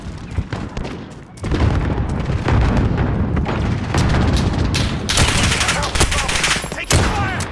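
Rapid gunfire from the video game Call of Duty Modern Warfare: dense, loud bursts of shots and booms follow one another almost without pause across the whole stretch.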